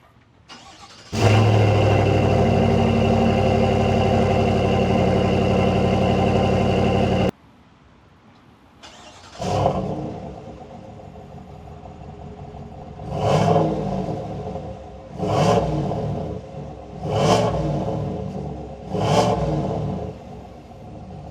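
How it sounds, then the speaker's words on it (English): Active exhaust on a 2026 GMC Sierra 1500 AT4 pickup truck: the engine fires up into a loud, steady idle, cuts off, then restarts, and the truck is revved in about five rising and falling bursts, close by. "let me show you what the active exhaust sounds like on this."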